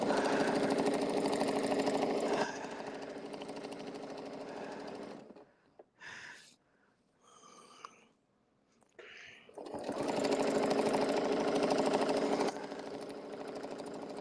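A sewing machine stitches a straight line on a winter fan blade quilt block, its loud steady whirring motor running in two long stretches with a quieter pause of small clicks and handling noises between them.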